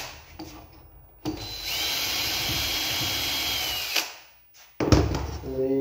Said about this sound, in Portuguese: Furei aqui.